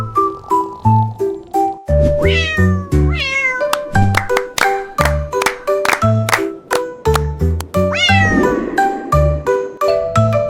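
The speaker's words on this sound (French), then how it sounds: "Le chat miaula doucement" Soft, repeated cat meows ring out alone over a gentle sung melody with chiming tones, the mewing rising and falling close by as part of a French children's song about a toy repair workshop.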